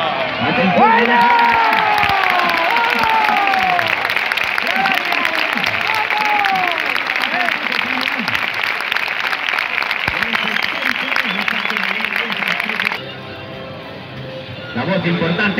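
Loud, sustained applause and cheering from a crowd at an outdoor street show in La Vall d'Uixó, with overlapping voices and a commentator over it, dropping briefly near the end.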